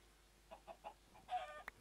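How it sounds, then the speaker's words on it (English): Minecraft chickens give a string of soft, short clucks, four or five quick separate calls, with a slightly louder cluster near the end, faint and alone with no speech. "Hello chickens, looks like it's gonna be you."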